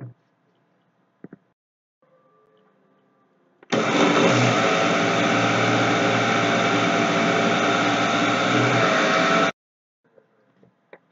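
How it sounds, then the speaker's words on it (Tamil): An electric mixer grinder blends sugar and cardamom in its jar, a loud, steady whirring roar that runs for about six seconds and then cuts off, with brief quieter sounds before and after. "இப்போ இந்த மிக்சி ஜாரில் சர்க்கரையும் ஏலக்காவும் சேர்ந்த இந்த மிக்சியை போட்டு மிக்ஸ் பண்ணிக்கலாம்."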